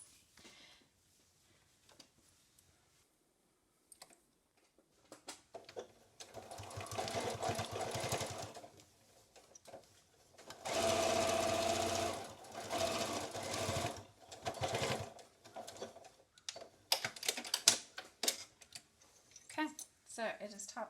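A sewing machine top stitches an N95 mask cover closed, running in several bursts of rapid mechanical stitching, with one longer steady run in the middle and quiet gaps and faint handling sounds between.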